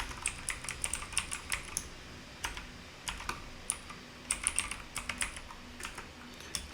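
Someone types CSS code on a computer keyboard in quick, irregular bursts of close, crisp key clicks with short pauses between them, alone and without talk.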